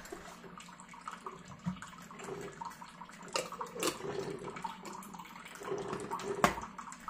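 Coffee brewing in a home latte maker, a soft, gurgling trickle of liquid with faint hisses and occasional small spits, quiet and uneven as the brew nears its end.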